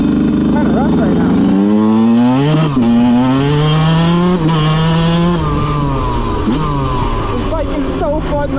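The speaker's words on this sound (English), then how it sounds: "This bike is so fun though, and I'm really glad it's finally riding" A Yamaha YZ125 two-stroke dirt bike, freshly rebuilt, being ridden on rough ground, its loud buzzing engine rising and falling through repeated revs and gear changes, close and continuous for the whole stretch.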